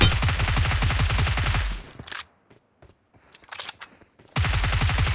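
Video game gunfire in two rapid automatic bursts of evenly spaced shots, loud and close, separated by a quieter gap with a few scattered sharp clicks and pops.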